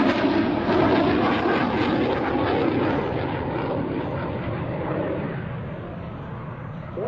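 An F-104 Starfighter jet passing at the 2004 Cold Lake International Airshow, a loud broadband engine roar that gradually fades slightly as it moves away, with no speech.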